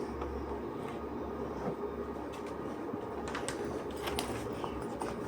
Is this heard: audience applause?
no